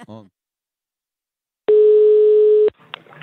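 A single steady telephone line tone lasts about a second on a call being placed for a prank, after a brief burst of voice at the start and before faint line noise.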